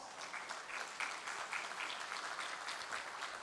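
A conference audience claps to welcome a panel moderator, an infrastructure vice-president, to the stage, with moderate, steady applause that is fairly distant and quiet and carries no speech.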